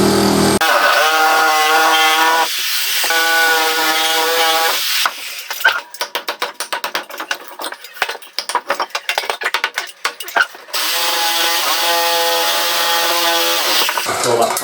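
Power saw blade, worn, cutting plasterboard while fitting a loft hatch: loud sustained whining cuts at the start and end, with a rapid rattling, chattering stretch in between, close up.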